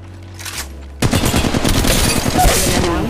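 Rapid automatic gunfire in the mobile battle royale game Apex Legends Mobile, a dense continuous burst of shots that starts abruptly after a second of quieter game audio and runs close and loud to the end.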